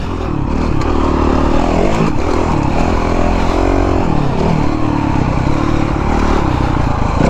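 A Honda CRF 450 dirt bike engine runs loud and close at a track, revving steadily with rising and falling pitch and some mechanical clatter.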